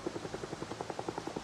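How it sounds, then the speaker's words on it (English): A helicopter flying overhead in Project Zomboid gives off a steady, fast rotor thump with evenly spaced beats, fairly loud and heard alone. "Looks like there's a helicopter in the air"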